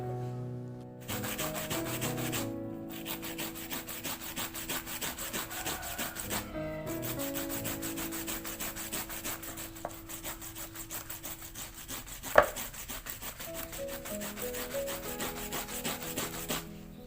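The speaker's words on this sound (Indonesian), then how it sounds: "Dan sekarang ini saya buang ujungnya ya teman-teman, timunnya, kemudian akan saya parut." Cucumber being rubbed back and forth on a traditional hand grater, a close, steady rasping scrape that keeps going with short pauses and one sharp knock partway through.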